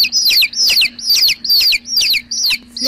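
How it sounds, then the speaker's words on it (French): Chicks chirp in a quick, regular run of about six bright, loud, close peeps, one after another with no voices. "Serait le cri des poussins."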